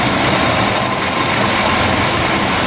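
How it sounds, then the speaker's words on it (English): A Chevy S-10 pickup with a four-wheel-drive fault runs with a raised front wheel spinning, giving a loud, steady, close engine drone throughout with no talking. "I'm spinning the front wheel right now."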